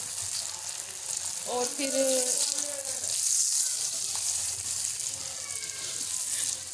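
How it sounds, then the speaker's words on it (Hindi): A stuffed chana dal paratha fries in ghee on a hot pan with a steady, crackling sizzle close by. Someone speaks briefly over the frying. "इसके ऊपर घी लगा दिया और अब इसको पकाएंगे इसके साइड को"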